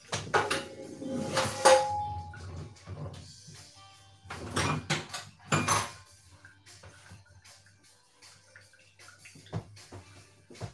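A frying pan is pulled from a kitchen cupboard with a few clattering knocks of cookware and a cupboard door, mixed with brief water sounds and quiet stretches.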